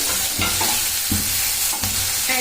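Onions and green chili paste frying in a pan for a dill-leaf palya, a dense crackling sizzle broken by three or four rhythmic scraping stirs, close and loud throughout.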